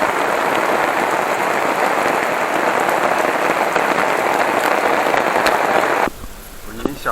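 Heavy rain pours down in a dense, continuous hiss and patter, loud and close throughout, then cuts off abruptly near the end, leaving quieter background sound.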